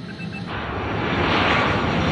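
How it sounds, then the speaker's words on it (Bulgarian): An Air Canada Boeing 767 airliner roars steadily, its engine noise swelling loud and broad after a brief quieter start and holding close and continuous with no speech. "Това е един от 4-те самолета Boeing 767, които Air Canada е закупила съвсем наскоро."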